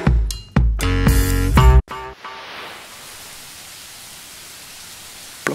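Light rain falling during a walk in Brittany, a soft, steady hiss that takes over after a short burst of tonal music at the start and continues quietly to the end.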